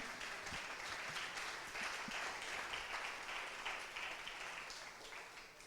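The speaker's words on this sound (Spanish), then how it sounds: "Dele a alguien un aplauso bien fuerte a Dios." A church congregation applauds during a sermon, a dense sustained wash of clapping from many hands that stays steady, then thins slightly near the end.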